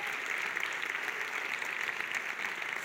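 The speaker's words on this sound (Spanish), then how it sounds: "A todos ellos, muchísimas gracias y un fuerte aplauso" Sustained applause from a school audience honoring participating schools and foundations, steady dense clapping filling the room throughout with no speech over it.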